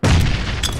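Grenade explosion in a battle royale video game match, a single loud, deep boom that hits abruptly and rumbles briefly, heard alone and close.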